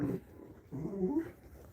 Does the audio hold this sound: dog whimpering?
yes